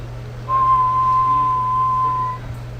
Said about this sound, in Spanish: he oprimido este botón que voy a silbar